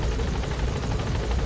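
A helicopter circles to land on a helipad in the Metal Gear Solid V video game, its rotor a steady, loud whooshing drone that pulses rapidly and fills the whole clip without talk.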